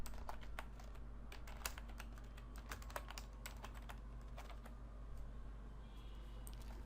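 Someone types steadily on a computer keyboard while entering an alias name during IIS web service setup. The key clicks are quiet and irregular, with a low background hum.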